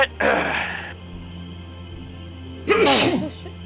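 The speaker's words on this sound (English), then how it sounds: "I don't sneeze straight into the mic, okay?" Two sneezes from a person near a microphone, the first sharp burst right at the start and a second loud one about two and a half seconds later, with quiet room hum between.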